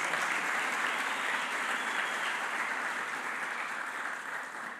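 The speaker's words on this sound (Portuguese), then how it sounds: "aplauda bem forte o nome de Jesus" A church congregation applauding, steady broad clapping from many people that holds evenly and eases slightly toward the end, with no talk over it.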